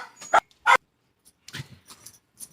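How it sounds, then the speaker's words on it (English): Two pet dogs at home barking, sharp yaps in a quick pair, then a looser scatter of lighter barks and whimpers, fairly close. "So I don't know if they were barking at a cat or a squirrel"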